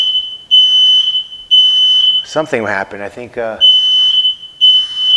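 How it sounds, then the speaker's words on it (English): A fire alarm blaring in a loud, steady repeating beep pattern, with a short pause partway through while a person speaks briefly over it. "fire alarm went off"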